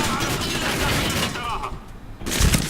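Rapid gunfire rattles in the shooter game Medal of Honor Warfighter, dense bursts that drop off briefly before a heavier boom of shots returns near the end.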